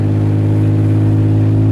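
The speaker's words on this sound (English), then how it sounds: "it's really loud with the exhaust broken like that" A Geo Tracker engine idles loud and deep through a broken exhaust, a steady, heavy low rumble that runs unbroken throughout.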